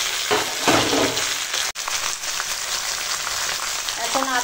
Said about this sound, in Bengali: তো এখন টমেটো আর মাংসটা দিয়ে দিলাম